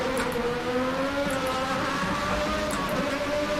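A Sauber Formula One car's V10 engine in the Assetto Corsa racing game at Spa drones at high, steady revs, a loud, continuous whining tone heard close and alone without talk.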